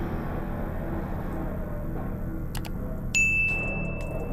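A notification bell sound effect rings once with a bright, sustained ding that lingers over a low background bed, preceded by a couple of brief clicks.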